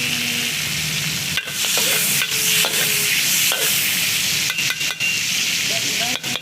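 Garlic frying in butter over a slow fire, a steady soft sizzle close up, broken by sharp clinks and scrapes of a utensil stirring in the pan.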